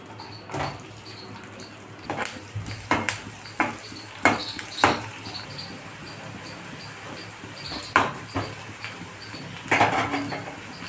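Chopped onion and green chili fry in oil in a wok, a soft crackling sizzle running underneath while a utensil clinks and scrapes against the pan in irregular taps.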